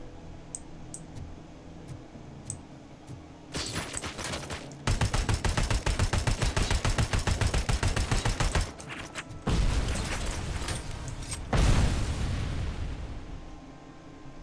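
Gunfire in Robocop: Rogue City comes in loud, dense bursts of rapid automatic shots separated by short quieter gaps, with mechanical clicks between bursts while the gun reloads.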